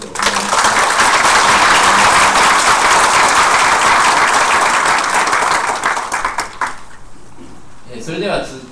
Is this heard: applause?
yes